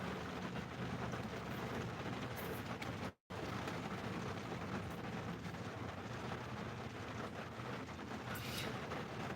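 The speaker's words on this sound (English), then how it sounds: "It's raining. It's raining good." Heavy rain pours continuously with a broad rushing hiss, a deep rumble of thunder mixed in, heard steadily apart from a brief dropout, with no voices.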